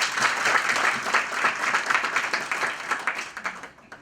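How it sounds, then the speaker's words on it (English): A gala dinner audience gives a round of applause, a dense, fairly loud crowd of clapping that thins into fewer, more separate claps as it fades toward the end. "Give it a round of applause."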